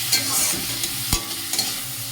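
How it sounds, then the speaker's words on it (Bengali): Water spinach greens seasoned with turmeric and salt frying and being stirred in a pan, a close, loud sizzle broken by brief scraping stirs. "একটু হলুদ আর নুন দিয়ে শাকটা একটু ভাজা ভাজা করে নিচ্ছি"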